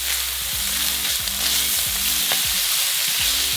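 Monroe sausage sizzling in a pan with a pinch of butter as its fat renders, a loud, dense, close frying hiss with soft rhythmic stirring underneath, no voices.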